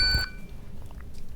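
A payment terminal gives one short, clear electronic beep when a locked iPhone is tapped against it, followed by quiet room noise.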